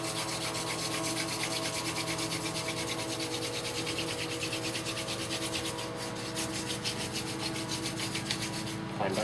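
A velvet leaf spindle spun between the hands on a wooden board in a friction fire hand drill makes a continuous, close, rhythmic rubbing and scraping that pulses with each stroke.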